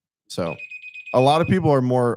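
A phone app alert for a fire department call rings as a steady high electronic tone that repeats in short pulses, sounding under people chatting nearby.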